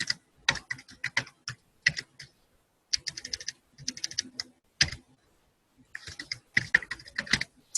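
Typing on a computer keyboard, close and crisp, with fast clusters of key clicks broken by short pauses, no voices.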